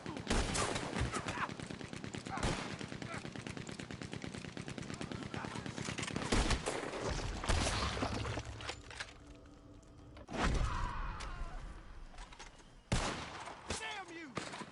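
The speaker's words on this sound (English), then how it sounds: "Look out, he's firing. Hell, that gun can shoot." Rapid bursts of gunfire ring out in the Red Dead Redemption 2 video game, loud sharp cracks in quick succession at first, then a few isolated heavy shots with quieter gaps between them.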